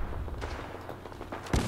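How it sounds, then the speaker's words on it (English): Gunfire in the Fallout 4 video game near Lexington: a few dull, low thumping shots with a sharper loud burst at the end, set against a steady background rumble. "To a lot of gunshots."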